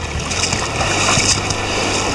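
Loud, continuous rushing water of a shallow mountain river riffle on the Kolyma, close and steady, as someone wades across it in waterproof gear.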